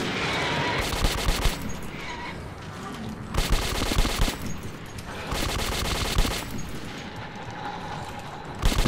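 Rapid bursts of automatic gunfire from a gun in the video game Metro 2033, loud and close, coming in several sustained volleys separated by brief pauses.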